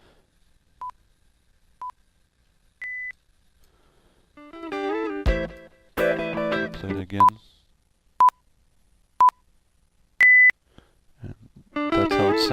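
Beep cue track MP3 for music video playback: short electronic beeps at steady one-second intervals, a longer higher tone among them, interleaved with bursts of music; a voice speaks briefly.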